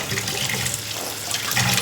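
Water pours into a pan of fish curry masala with potatoes, a steady splashing hiss that continues for the whole short moment with no voices.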